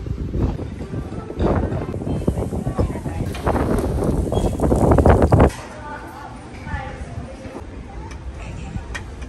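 Gusty wind beside a pool on a cruise ship buffets the microphone in rough bursts for the first five seconds, then drops to a softer, steadier outdoor breeze.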